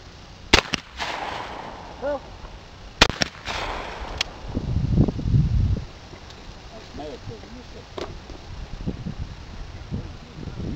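Shotgun blasts at an outdoor skeet range, several sharp loud reports in quick pairs, with wind noise and people talking between shots.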